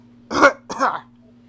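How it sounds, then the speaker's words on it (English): A man coughs twice into his mask, two short, harsh throaty bursts close by, separated by a brief pause over a faint steady hum. "He coughs into his mask, a"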